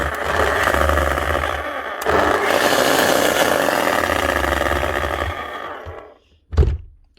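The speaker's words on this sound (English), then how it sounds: "Right, a makita hammer, HM1202C." A Makita HM1202C demolition hammer, a machine of doubtful health, runs loudly with a dense, rough, steady roar for about six seconds, stops abruptly, then gives one short final burst.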